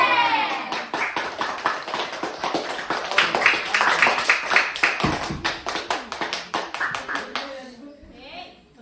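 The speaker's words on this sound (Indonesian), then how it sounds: "Kita beri aplaus ke kelompok 3." A school class claps together for a group, a dense burst of many hands that holds steady for several seconds and then tapers off, with a few children's voices toward the end.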